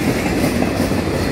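A Norfolk Southern freight train led by two EMD locomotives rolls past a station, a loud, steady rumble and rattle of cars close by with no pauses.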